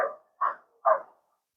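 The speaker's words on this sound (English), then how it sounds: "Apart from that dog barking, it's a really nice evening." A dog outdoors on an evening barks three times in quick succession, short sharp yaps spaced about half a second apart, fairly distant and alone against a quiet background.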